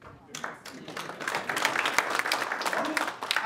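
A small group claps for a few seconds, the applause building quickly and continuing steadily.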